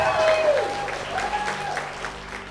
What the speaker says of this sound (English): Can we just take a moment to agree with a round of applause